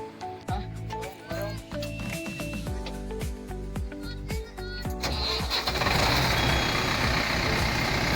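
A truck at a bridge construction site revs and rumbles with repeated beeping tones over the engine, then a louder broadband roar takes over near the end.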